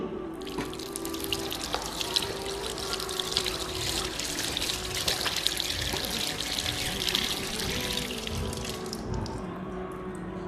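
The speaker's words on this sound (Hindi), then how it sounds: "अब हम बायां पैर धोते हैं" Tap water runs steadily into a sink while the left foot is washed during wudu, the ritual Islamic ablution. It is a continuous close splashing and trickling with small drips, and no one speaks.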